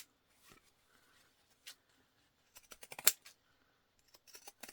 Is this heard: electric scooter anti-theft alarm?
no